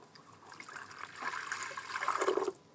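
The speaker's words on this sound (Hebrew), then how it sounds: "אני מוסיפה שתי כוסות מים פושרים." Two cups of lukewarm water are poured into a bowl with dry yeast for pita dough, a soft, close splashing trickle that builds over a couple of seconds and then stops.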